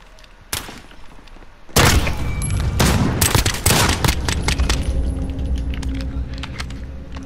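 Pistol fire in Call of Duty: Modern Warfare: a lone sharp shot, then a loud cluster of rapid cracks with metallic clinks and a lingering echo tail.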